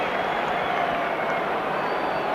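Rugby supporters at the 1991 Schweppes Cup Final between Pontypool and Llanelli, the Red Army chanting, jumping and clapping, forming a dense, steady stadium roar that blankets everything without a break.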